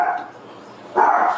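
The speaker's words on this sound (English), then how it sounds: "excuse my dog, like that." A dog barks in two bursts close by, one at the start and a louder one near the end, with a quieter gap between them and no talking.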